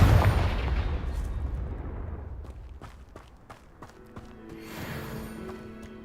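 A Confringo fire spell bursts in Hogwarts Legacy with a heavy, booming explosion that rumbles and fades over several seconds, followed by scattered crackling debris and a faint tonal magical shimmer.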